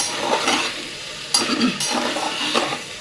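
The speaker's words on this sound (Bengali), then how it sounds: "এবার ভালো করে একটু কষিয়ে নেবো মশলার সাথে ডালটাকে" Dal stirred and fried with spices in a pan: short bursts of scraping and sizzling from a spoon working through the mixture, close and fairly loud, in a few uneven strokes.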